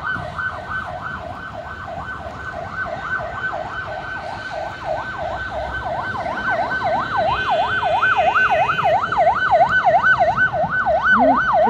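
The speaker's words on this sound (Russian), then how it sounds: "Да, это скорая." An ambulance siren rises and falls in a steady, fast cycle, growing louder as it approaches over a low traffic rumble on a snowy city square.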